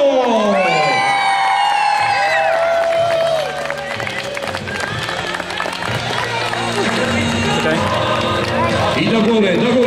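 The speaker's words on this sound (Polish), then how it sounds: "Proszę, wielkie brawa, pierwsze miejsce Bytów!" A crowd at a regional youth football final cheers, whoops and shouts loudly for the first-place team from Bytów, with children's voices prominent and an announcer's voice booming over the noise.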